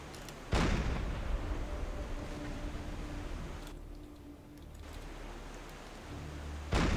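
Gunfire striking an enemy ship in the submarine game Silent Hunter 4, two loud, sharp booming impacts at the start and end of a steady roar of rushing sea noise.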